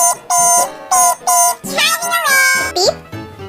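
A voice mimics a car beeping in a sing-song tune: three short, bright, evenly spaced beeps, then a longer sliding, warbling tone that dips low at the end.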